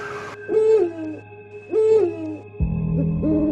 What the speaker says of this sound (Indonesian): Aku melihat burung hantu dari atap rumah yang transparan.